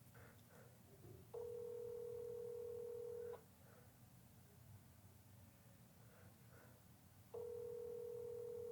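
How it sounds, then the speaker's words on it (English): Outgoing call ringback on a Light Phone 3 heard over speaker, two long steady ring tones separated by a pause, set against a low room hum with no talking. "let's go ahead and make our first phone call"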